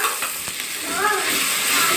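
Yogurt spice paste for a dhaba-style egg masala sautéing in a pan, a loud close sizzle with scraping stirs that builds in the second half, no speech.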